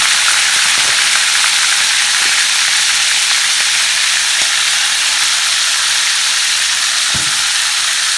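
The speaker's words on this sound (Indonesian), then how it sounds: "minyaknya itu nyiprat-nyiprat gitu, meletup-meletup gitu pas aku goreng" Large shrimp frying in hot oil give a loud, steady sizzle, with scattered sharp pops and spatters breaking through the constant hiss.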